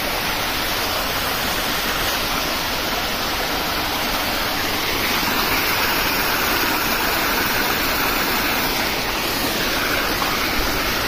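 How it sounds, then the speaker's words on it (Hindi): A mountain waterfall along the Hemkund Sahib trail between Govindghat and Govind Dham pours steadily, a loud, broad, unbroken rush of falling water that stays constant throughout with no voices. "पानी आ रहा है, झरना बह रहा है।"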